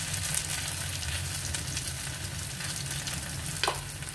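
Potato slices crackle and sizzle in hot oil at a steady, dense level, with a brief sharper pop or stir near the end and no talking.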